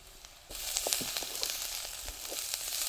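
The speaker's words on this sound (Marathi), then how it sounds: "तेलात असं छान लालसर उसर परतून घ्यायचं" Grated coconut starts sizzling abruptly in hot oil for a village-style upma, a steady close crackle with scattered pops and light stirring.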